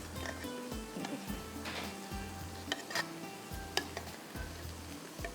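Aloo tahiri, a potato and rice dish, being stirred and mixed in a pot, with soft scraping and clinking of a spoon against the pot in a quiet kitchen, broken by a few sharper metallic taps.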